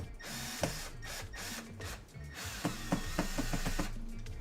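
Quiet ratcheting clicks from a screwdriver working at stubborn screws on a Dewalt wet dry vac, close and faint, with an irregular run of clicks that quickens into a rapid series toward the end, no talking.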